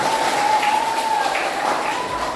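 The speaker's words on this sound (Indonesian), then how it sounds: "tepuk tangan yang meriah" Brief burst of audience applause during a talk on computational thinking, a dense, fairly loud patter of clapping over a faint steady tone.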